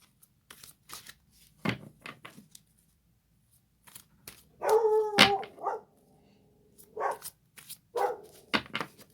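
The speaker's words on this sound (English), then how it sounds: "Apologies for the dogs barking." A few sharp dog barks burst out in short clusters against a quiet background, one longer yelping run in the middle, with pauses between.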